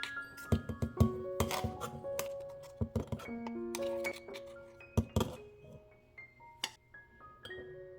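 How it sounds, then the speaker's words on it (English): Green chutney premix being transferred into a glass jar: clinks and taps of a spoon against the glass, with irregular ringing chinks and soft thunks spread across the whole stretch. "So I'm just going to take it out in a glass jar."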